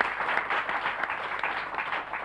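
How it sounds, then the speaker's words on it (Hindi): A studio audience on a Hindi talk show claps steadily in a dense, even burst of applause with no voices over it. "जरा ताली बजाइए ना जोर से आप लोग इनके लिए"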